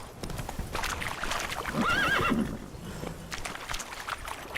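A horse in The Witcher 3: Wild Hunt – Blood and Wine whinnies once in a rising, wavering neigh over steady background noise, with faint hoof clopping around it.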